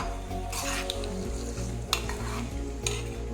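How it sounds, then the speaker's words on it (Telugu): Mustard seeds and other tempering spices crackle and sizzle in hot oil for a chakkakura pulusu, a close, steady hiss broken by sharp pops, with no talking. "చిటపటలు ఆడే వరకు ఉంచండి, లేకపోతే చేదు వస్తుంది"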